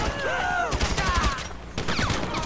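Rapid bursts of gunfire in the video game GTA V, two loud volleys of overlapping shots separated by a short lull, with a voice talking over them.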